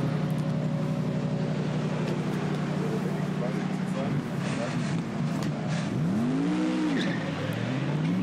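Mercedes-AMG GT3 race cars lap the Nürburgring Nordschleife during the 24-hour race. Engine notes drone and sweep in pitch as cars pass, heard faintly beneath continuous commentary.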